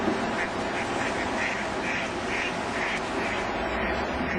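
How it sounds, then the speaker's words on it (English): Ducks quack repeatedly on the River Loxley, a run of evenly spaced calls over steady water and outdoor background noise. "Ducks in there"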